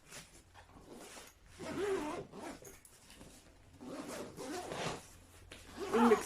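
A zipper is drawn around a carry-on luggage bag in several rasping pulls of varying length, close by, with soft rustling between strokes and a final quick zip.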